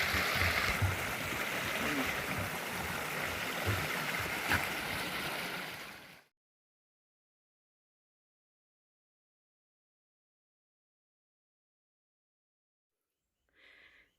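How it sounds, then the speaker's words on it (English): A stream crossing on the Appalachian Trail flows with a steady broadband rush for about six seconds, then abruptly drops to silence before a brief faint burst near the end. "at the bottom, we have our first stream crossing"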